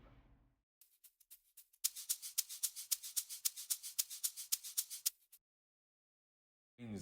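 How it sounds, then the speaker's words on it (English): A shaker rattles in a quick, steady rhythm of bright, crisp shakes for a few seconds right before the song drops, heard alone and fairly quiet after a few faint soft hits. "Then I also added variation by adding this shaker right before the song dropped,"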